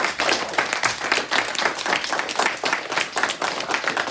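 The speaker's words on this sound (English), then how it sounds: "Could we give a round of applause to our?" Steady applause from an audience closing a film Q&A session with the director and supporting cast, dense even clapping that carries evenly throughout without any talk over it.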